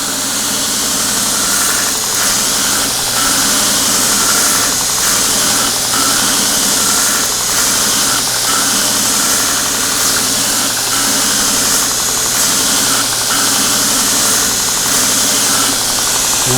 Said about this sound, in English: I'm just taking that gum stick and it sucks the grit out of the belt.